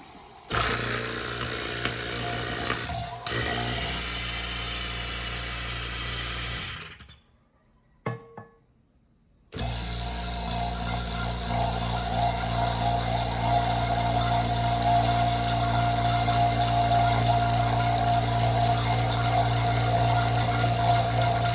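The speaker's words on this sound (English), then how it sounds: "We'll turn on the vacuum pump." A steady vacuum pump drones loudly, cuts out for a couple of seconds, then starts again and hums continuously with a low motor tone.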